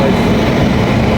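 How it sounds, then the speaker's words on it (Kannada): A passenger train pulling into a station in Bengaluru, a steady loud rumble of wheels and carriages filling the whole moment with no gaps or voices. "Train arrived."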